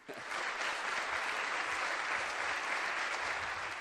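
Audience at the World Business Angels Investment Forum opening in 2018 breaking into sustained applause for sponsors, a dense, even roar of clapping that rises quickly and holds steady, heard alone.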